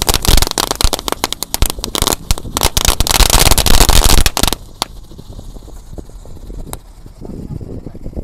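A rapid burst of loud firecracker pops, set off together in a hole in the ground, crackles densely for about four seconds, then stops, leaving a few scattered pops and quieter background noise.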